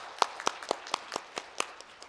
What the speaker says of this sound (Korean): 큰 박수로 맞이해 주시기 부탁드리겠습니다.